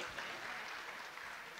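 Applause at an All India Urdu mushaira in Amba Jogai, Maharashtra: a brief, dense and fairly faint wash of clapping from the crowd.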